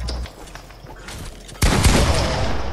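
Video game gunfire: a sharp burst of shots bursts in loudly after a quieter stretch and then keeps going as dense, close fusillade noise, with no talk over it.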